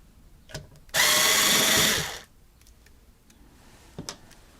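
A power screwdriver whirs for about a second while backing out screws from an Apple IIc power supply, close and loud, with small clicks and taps of handling before and after.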